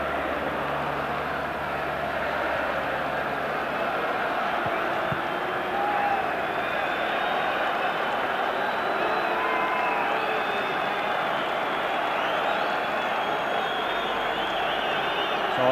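A capacity all-ticket football crowd of about 46,000 fills a large stadium at Rangers v Aberdeen in 1992. It is a steady, fairly faint, distant murmur of many voices with scattered calls rising out of it.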